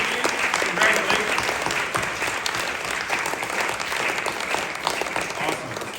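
A crowd at a literary awards ceremony applauds the evening's winners with sustained, even clapping that holds at a steady level and tapers slightly toward the end, with no talking over it.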